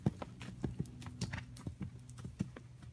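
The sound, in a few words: horse hooves cantering during riding lesson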